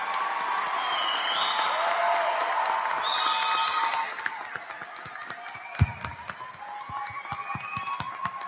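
A commencement audience applauds its graduates with a dense, steady wash of clapping from many people, thinning a little toward the end as a few sharper individual claps stand out.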